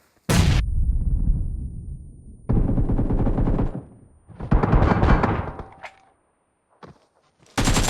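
Gunfire in the BGMI battle royale video game: loud bursts of rapid automatic fire and single shots in several clusters separated by short quiet gaps, close and punchy.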